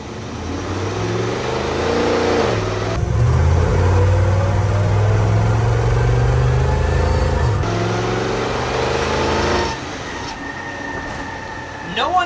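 A 1975 Toyota Land Cruiser FJ40 with a fuel-injected engine revs hard, close and loud, rising and falling through several strong pulls before settling toward idle, with no talking over it.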